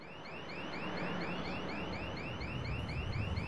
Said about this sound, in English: How can you hear anything over that alarm?